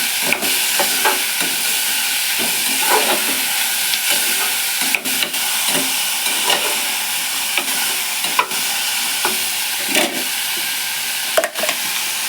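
Chopped ridge gourd and other curry ingredients sautéing in a hot pan for a North Karnataka style palya, with a continuous close sizzle broken by repeated scrapes and knocks of a stirring spoon.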